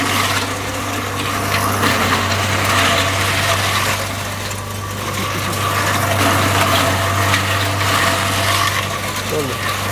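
A feed crusher machine fitted with a 5-hole screen grinds fodder for sheep with a loud, steady mechanical roar and an even low hum, running continuously throughout.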